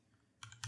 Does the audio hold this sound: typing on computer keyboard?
yes